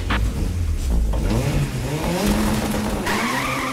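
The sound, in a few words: race car skidding on a Futuroscope ride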